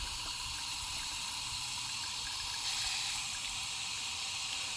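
Water from a tap pours slowly into a measuring container, filling toward 1,000 milliliters: a steady, quiet hiss of running water with no speech.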